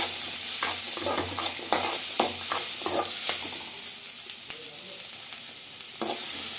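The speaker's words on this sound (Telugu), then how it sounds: "వేసుకొని బాగా గోల్డెన్ కలర్ వచ్చే వరకు ఫ్రై చేసుకోవాలండి ఆనియన్స్ అయితే ఉల్లిపాయలు కూడా బాగా మగ్గాలి ఆయిల్లో" Sliced onions frying in oil for a toor dal chutney, a steady close sizzle broken by repeated scraping stirs of a spoon against the pan, with no talking.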